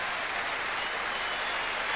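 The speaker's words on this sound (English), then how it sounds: "Warm applause from this very hot MCG crowd" Hot MCG cricket crowd clapping warmly, a steady, even wash of applause from a large stadium audience, distant and uniform with no single claps standing out.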